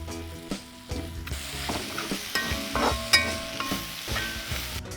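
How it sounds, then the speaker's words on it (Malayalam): Onions sauté in a pan with rock salt added for Kerala-style kappa biryani, a steady soft sizzle broken by irregular scraping and stirring clatter of a utensil against the pan, close by. "ഈ ഉള്ളി പെട്ടെന്നൊന്ന് മൂത്ത് കിട്ടാൻ വേണ്ടിയിട്ട്, വഴണ്ട് കിട്ടാൻ വേണ്ടിയിട്ട് അതിൻ്റെ അകത്തോട്ട് കുറച്ച് കല്ലുപ്പും കൂടെ ചേർക്കാം"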